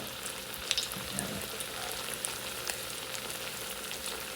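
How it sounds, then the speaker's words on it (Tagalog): Hotdogs fry in hot oil, giving a dense, continuous sizzle with scattered pops and spits close by, steady and fairly loud with no talking. "So, nakita ko kasi sa rep merong hotdog, kaya ipiprito ko na din."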